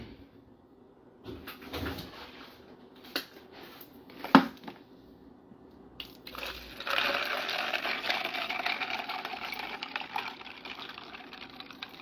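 A drink is poured after a few knocks and clinks, a steady liquid stream running for several seconds, fairly close and moderate in level.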